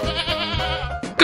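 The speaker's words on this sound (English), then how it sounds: "It's a goat." A goat bleating, one close, loud, wavering cry lasting about a second, followed by the start of another call.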